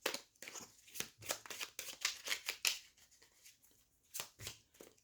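Lenormand cards being shuffled by hand in quick, irregular bursts of crisp riffling and slapping, close and fairly quiet, with short pauses between the bursts.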